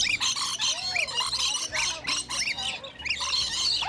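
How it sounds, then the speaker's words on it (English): Loud birds at an aquarium squawk and honk over and over in harsh, overlapping bursts close by, with no speech. "Fucking birds, man. Oh, these guys are fucking loud."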